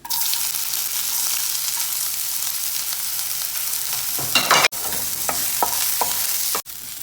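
Horse gram thoran stirred and fried in a pan, a steady loud sizzle running throughout with a few sharp scraping stirs near the end and brief breaks in the frying hiss.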